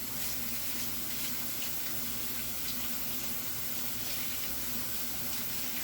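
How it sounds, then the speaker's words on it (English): Cold tap water runs steadily into a sink as roasted vegetables are rinsed, a constant close hiss and splash with no voices. "I'm just going to rinse these in cold water."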